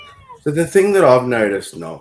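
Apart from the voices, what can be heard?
cat meowing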